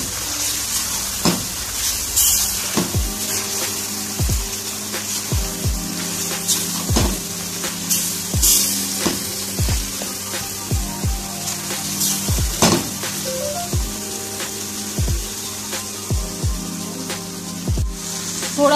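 Mutton karahi with whole black peppercorns and spices being stirred and fried in a pan, a steady sizzle broken by repeated sharp scrapes and clinks of a utensil against metal, close and fairly loud, with no talking.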